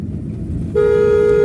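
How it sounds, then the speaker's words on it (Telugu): A steady car horn blares in one long, loud honk over rumbling engine noise, starting partway through and holding to the end. "హార్న్ కొట్టు"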